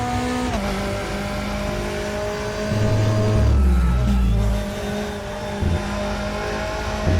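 A GT4 race car in a sim racing game at Hockenheim revs hard and climbs through the gears, its loud engine note rising and falling steadily with a brief deeper surge midway and no talk over it.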